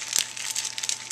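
A plastic bag holding meat marinating with ginger and garlic crinkles and rustles in short, close bursts, with one sharper crackle near the start and no talk.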